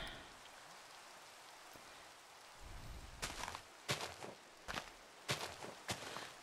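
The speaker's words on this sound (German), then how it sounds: "Wo es hier so schön regnet jetzt." Steady soft rain falls in the video game Minecraft, a constant hiss that runs under several sharper crunching footstep-like thumps in the second half, with no speech.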